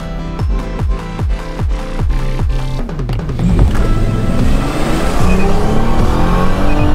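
A car just back from repairs accelerates hard on the road. Its engine climbs steeply in pitch and drops at each of several quick gear changes, then pulls into a loud, sustained drone, close and without talk.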